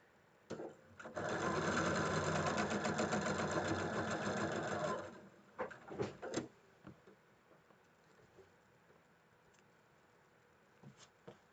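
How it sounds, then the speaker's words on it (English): A sewing machine stitches two rows of quilt blocks together in one steady, loud burst lasting a few seconds, followed by softer handling clicks and fabric rustles. "We're going to sew these 2 rows just like we did the other ones."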